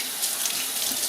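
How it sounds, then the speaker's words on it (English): Cold tap water runs steadily over kefir grains gathered in a piece of screen wire at a sink, a continuous close splashing rinse with no voices. "start rinsing with the cold tap water"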